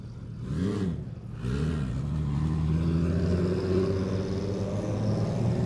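A Porsche 997 race car engine revs up in two sharp bursts, then holds a loud, steady high idle with a raspy, rumbling tone, close up and with no talk.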